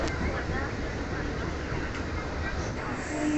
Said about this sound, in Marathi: ही बघा, ही आपली ट्रेन वलसाड मेमो.